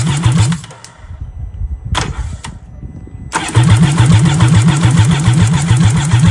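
A 155 HP engine on a 12 ft jet punt boat cranks with a chugging rhythmic starter, pauses, cranks again and catches, settling into a loud, steady, pulsing idle close by.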